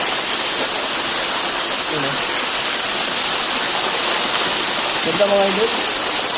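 A high waterfall roars loudly and continuously, a dense, unbroken rush of falling water up close, with someone speaking briefly over it twice.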